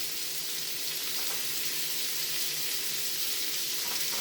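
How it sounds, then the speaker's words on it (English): Pork from a boneless cutlet sizzles steadily in a stir fry pan, a constant bright hiss of frying filling the space close by with no talk over it. "put that in there, get our swizzle going, our sizzle going"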